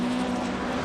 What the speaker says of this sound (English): Listen to the noise from Vennerlein's car.